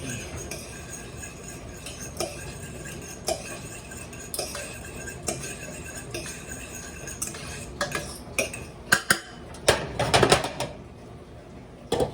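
Spoon stirring vegan taco filling in a pot after salt goes in, producing a run of metallic clinks and scrapes against the pot, sparse at first and then busier and louder near the end.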